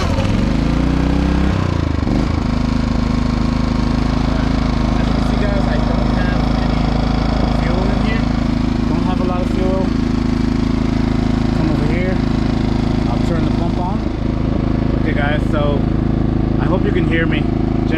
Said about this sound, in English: Generator is running.